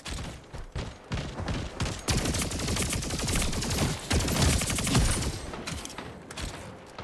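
Sustained rapid gunfire from a video game shooter, dense overlapping bursts and volleys that stay loud and continuous throughout with no talking.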